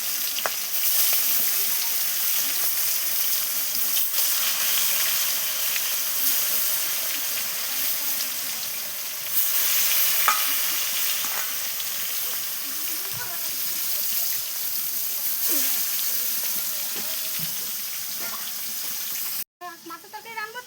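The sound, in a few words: fish frying in oil on a clay stove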